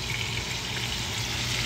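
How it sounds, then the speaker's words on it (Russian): Duck pieces fry in a pan with a steady, bright sizzle and crackle that holds evenly close by, alone without talk. "Сначала обжаривает кусочки утки"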